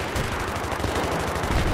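Rapid automatic gunfire in the multiplayer video game Battlefield 3 on the Back to Karkand maps, loud, dense bursts of rattling shots filling the whole moment without talk.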